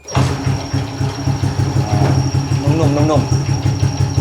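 A Honda Wave 110i motorcycle engine idles with a steady low, pulsing putter, close by, while someone talks briefly over it.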